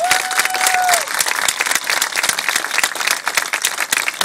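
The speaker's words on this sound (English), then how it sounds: "How about a round of applause for our greatest generation of folks?" A crowd at a high school parade event applauds veterans: loud, dense clapping holds steady for several seconds, and a brief tone sounds at the start.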